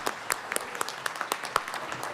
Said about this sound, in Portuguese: Muito bem, mais uma salva de palmas.